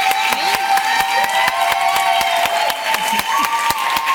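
A studio audience on a Turkish Survivor panorama show claps loudly and continuously, a dense patter of many hands close by, with tonal music or voices faintly underneath.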